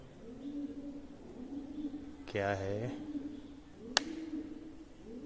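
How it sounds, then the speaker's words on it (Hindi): Pigeons at Golconda Fort in Hyderabad give a short burst of throaty cooing, close and fairly clear, over a steady outdoor hum, with a brief sharp click soon after and faint talk nearby. "तो यहाँ पर कुछ कबूतर वगैरह हैं"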